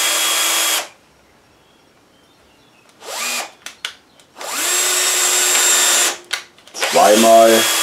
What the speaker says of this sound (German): werde ich hier meine Löcher vorschrauben, aus dem Grund, dass ich auch das Teil recht gut mittig treffe.